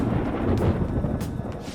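Thunder from the video game Persona 5 rolls as a low, continuous rumble with a faint hiss of rain on top, heard on its own without voices.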